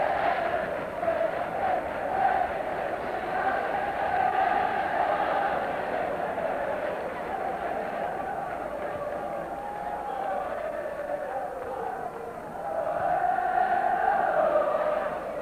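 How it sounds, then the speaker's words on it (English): A football crowd at the London Road end, at an Oxford United versus Swindon Town match, drifts out of the ground, making a continuous, fairly distant murmur of many voices that swells slightly toward the end. "Crowd behind the London Road end going home now, terribly disappointed"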